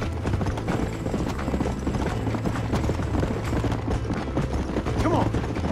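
Hooves of a galloping horse in the Red Dead Redemption video game, a steady rapid clip-clop under constant game ambience and music, with a voice talking over it.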